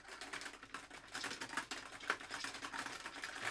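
Clattering key noise from a carry-on folding 88-key digital piano, a fast run of dry plastic clicks and taps close by, with no voices.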